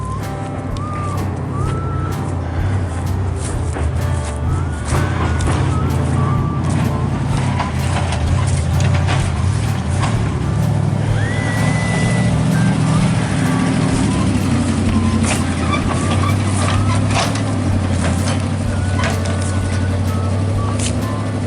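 A 1958 Chevy Apache dump truck engine runs loud and close, a continuous heavy rumble with faint tonal whines on top throughout.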